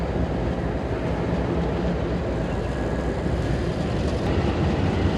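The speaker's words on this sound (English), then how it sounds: "Comes another train. I love trains." A train rolls past near Seattle's Elliott Bay waterfront trail, a steady low rumble and rattle of railcars that stays loud and continuous throughout, with no voices.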